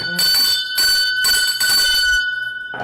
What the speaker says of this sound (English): But I'll ring the bell for the man.